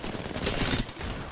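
Rapid automatic gunfire in Apex Legends, a dense burst of shots that swells and fades over about a second, loud and close with no voices over it.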